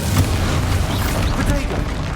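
A Bombarda blast spell in the Hogwarts Legacy video game goes off as a dense, rumbling boom that fills the whole clip, with a voice faintly under the game noise.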